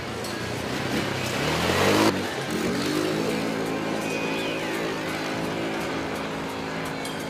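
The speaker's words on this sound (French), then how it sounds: "Les accélérations sont pleines et le MASH prend son envol passé les 4000 tours minute accompagné d'une sonorité d'échappement valorisante mais pas trop forte." MASH Starbird 600 quad's engine and exhaust pulling hard under acceleration, a loud close drone that climbs in pitch, drops briefly at a shift, then holds a steady strong roar.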